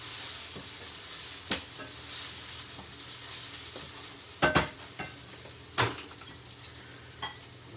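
Garlic and other ingredients for chickpea curry are mixed in a cooking vessel, producing a low sizzle with scattered clinks and scrapes. A few sharper metallic knocks stand out.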